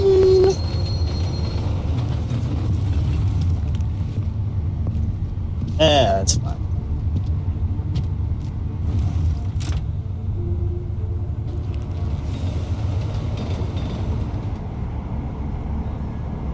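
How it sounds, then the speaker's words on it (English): Train ride in the video game Deus Ex: Mankind Divided: a steady low rumble of rolling carriages runs throughout, with a brief metallic squeal near the middle, heard under occasional speech. "Back on the train!"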